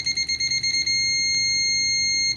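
BTMETER BT-770S multimeter continuity beeper on standard probes: a rapid stutter of short, loud, high beeps as contact is made, then a steady latched tone held for over a second before cutting off.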